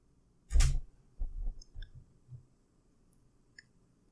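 Keys tapped on a computer keyboard while entering a terminal command, a sharp opening click followed by a few softer, irregular taps and clicks, close and quiet with no voice.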